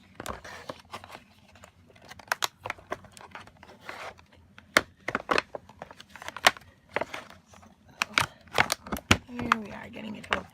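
Plastic packaging around a punch board being pried open by hand, with sharp irregular crackles, snaps and crinkles, close and fairly loud, scattered across the clip with quiet gaps between.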